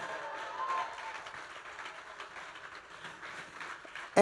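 Wedding guests applaud after a toast at a reception, clapping in a soft, diffuse patter heard from a short distance. The applause holds steady with a sharp knock right at the end.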